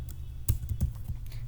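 Keys clatter on a computer keyboard during a typing test, a steady run of quick taps with a few louder strokes, close and alone over a low hum.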